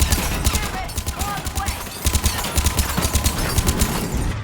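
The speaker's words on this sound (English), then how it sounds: "I keep shooting" Rapid, rhythmic gunfire in the video game Mass Effect 3 rattles close and loud in repeated bursts, with brief pauses and mechanical clicks between volleys.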